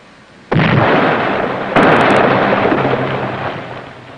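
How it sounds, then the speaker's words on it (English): A submarine torpedo exploding prematurely after broaching, a sudden loud blast followed by a long rumbling roar, a second burst swelling midway before slowly fading. "First torpedo broached and exploded prematurely."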